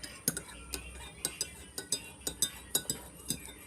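A spoon stirs a homemade cough remedy in a glass or bowl, giving a run of bright, close metallic clinks in an uneven rhythm of roughly a dozen taps.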